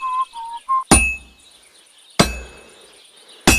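A hammer rings on a sword at a forge in Kingdom Come Deliverance 2, three sharp metallic strikes about a second apart with a lingering bright ring, preceded by a short whistled tune.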